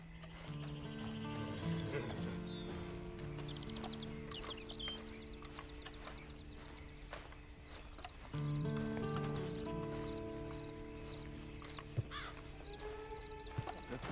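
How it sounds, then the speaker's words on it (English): Hooves clip-clop under a rider in the Western video game Red Dead Online, set among farmyard sounds like clucking chickens and background music, moderately loud and continuous with no talking. "And you better get on this horse."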